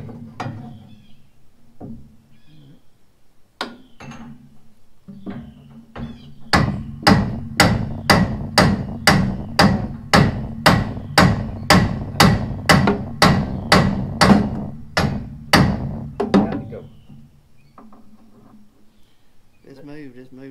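Steady, evenly spaced hammer blows ring out, close and loud, about a dozen in a row, with people talking before and after.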